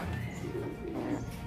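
Imported racing pigeons in a loft coo steadily and softly in low, rolling murmurs, several birds overlapping close by without pause and with no talking.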